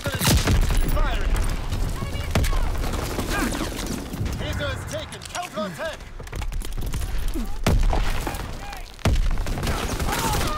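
Gunfire and explosions in a Call of Duty WWII Domination match in the Ardennes Forest map, with dense overlapping shots and booms throughout, under game voice callouts.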